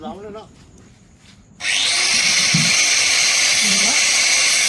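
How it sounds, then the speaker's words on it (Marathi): An angle grinder cutting a pipe starts up after a brief quiet stretch with faint voices, then runs as a loud, continuous, high-pitched whine up close. "हा पाईप मोठा वाटतोय तर थोडासा कापून घेऊया ग्राइंडरनी"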